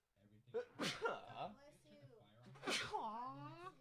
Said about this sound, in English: are you really sneezing?